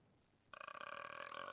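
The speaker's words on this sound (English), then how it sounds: "You mean like actual burping?" A long, low, rumbling burp in a burping competition, starting abruptly after near silence and holding for about a second, close and fairly loud.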